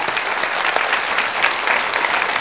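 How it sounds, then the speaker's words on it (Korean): A church congregation at a Friday worship service claps together in thanks, a steady, dense wash of applause filling the room without a break. "방송에 수고하신 분들 박수로 우리 감사합시다"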